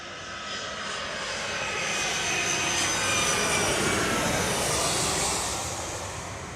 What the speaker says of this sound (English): that was United 2331 arriving from Washington Dulles on the 757-200, 28-year-old aircraft